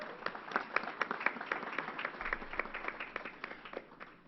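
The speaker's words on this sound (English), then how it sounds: "Let's give her a round of applause." A small press-conference audience gives a round of applause for a newly introduced government and community service official, a thin, moderate patter of separate claps that carries on steadily for a few seconds.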